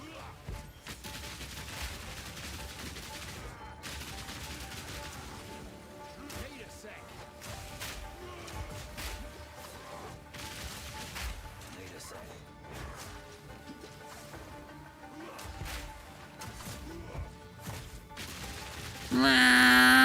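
Explosive grenades going off in the video game Path of Exile 2, a string of close, heavy crashing bursts and thuds layered over dense game effects and music, with a louder blast at the end.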